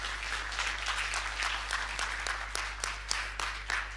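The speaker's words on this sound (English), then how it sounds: "once again, a round of applause for Hildabi here and his work" Applause from the audience at a staking gathering during Devconnect Buenos Aires, a steady patter of clapping at moderate distance that continues evenly throughout, with a low constant hum beneath it.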